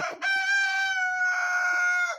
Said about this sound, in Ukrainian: то він перегукується десь з сусідським півнем